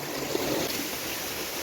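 Irrigation water rushes into a rice paddy during village planting in Gulmi, a continuous broadband flow of gurgling and splashing that stays steady and fairly near.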